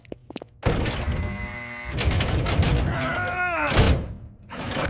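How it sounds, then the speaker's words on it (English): A heavy basement door is hauled open with a deep thunk, then a long grinding, groaning scrape as it swings, ending in a heavier knock; up close and loud. "Open the heavy door, Michael."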